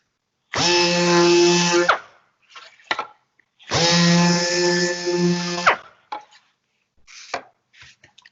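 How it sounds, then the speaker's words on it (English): A random orbital sander working an MDF door with 180-grit paper over an interface pad, two loud steady bursts of whining tone, each about 1.5 seconds long, separated by short gaps with light handling clatter. "180 grit with interface pad, or pad saver as they call them."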